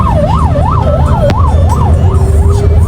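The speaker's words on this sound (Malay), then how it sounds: "Oh ada ambulans." An ambulance siren wails loud and close in a traffic jam. Its tone sweeps rapidly up and down in a steady, repeating rhythm over the low rumble of surrounding road traffic.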